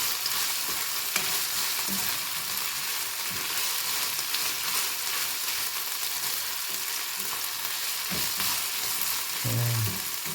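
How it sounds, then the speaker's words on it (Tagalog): Chicken breast, meant for a samosa filling, fries in a pan with a loud, constant sizzle while a utensil stirs it, making soft scrapes and knocks at irregular intervals. "So, haluin na natin siya"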